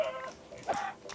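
Minecraft chicken clucking in short bursts, a couple of bright clucks about a second long, fairly close and alone with no talk over it.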